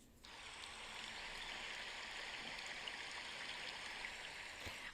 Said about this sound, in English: when I went down to the river, I had like recorded the sound of the waves